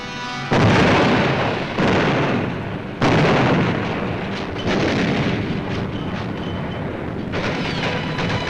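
Loud, continuous wartime battle sound of gunfire and artillery, with heavy booming bursts rolling over a dense wall of rumbling noise throughout.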